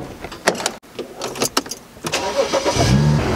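A BMW with the N54 engine runs close by, with a short burst of clicks and knocks followed by a steady engine drone that grows fuller and holds near the end.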